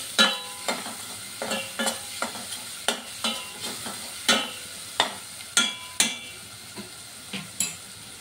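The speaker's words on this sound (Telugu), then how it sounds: "బాగా ఆనియన్, అల్లం వెల్లుల్లి పేస్ట్ బాగా వేగనివ్వాలండి," Onion and ginger-garlic paste frying in hot oil, stirred with a spatula in a steady rhythm of about a dozen scraping, clinking strokes over a continuous sizzle, close and clear, no voices.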